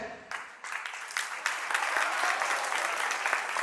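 Wedding-party crowd breaks into sustained applause, many hands clapping together, rising after a brief lull and holding steady and dense to the end.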